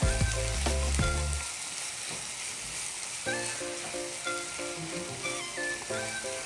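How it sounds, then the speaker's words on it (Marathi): Spice mixture frying in oil for bhindi masala, a steady broadband sizzle with harmonic tonal bursts near the start and from the middle, a continuous moderate crackle with no speech. "तर या मिश्रणाला ना तेलावर परतून घेते मी. तेलामध्ये मसाले चांगले भाजून घ्यायचे आहेत आपल्याला."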